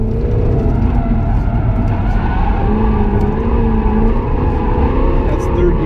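A Jaguar F-Type R pulls hard in third gear on a figure-eight course, its engine a loud, close, sustained roar with rising and falling pitch as the throttle is worked.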